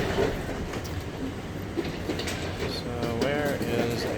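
Airport tram train running to the D gates, a continuous rumbling ride with rail clatter and a brief squeal of wheels near the end, heard from inside the car.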